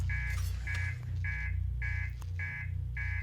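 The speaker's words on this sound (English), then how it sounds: "Master alarm." A spaceship master alarm blares in the game Outer Wilds, a loud buzzer repeating in regular pulses about twice per second over a constant low engine hum.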